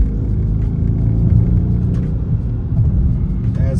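2021 Dodge Charger R/T naturally aspirated V8 rumbling deep and steady after downshifting from sixth to third gear in an eight-speed, heard from inside the car with no talking.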